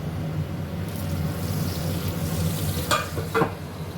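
Tomahawk steak sizzling in a hot pan, a steady dense crackle throughout with a couple of sharper spits near the end, close and fairly loud, with no talk.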